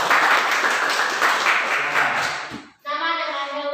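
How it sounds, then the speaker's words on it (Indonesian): Pupils in a classroom clap for group 3, a burst of mixed clapping that fades out quickly before a brief tonal sound. "Tepuk tangan dulu untuk kelompok 3 ya."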